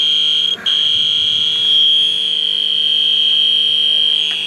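A leak detector checking a Jeep XJ air conditioning system sounds a loud, continuous high-pitched electronic alarm tone without pause, with a brief dip near the start and faint background noise.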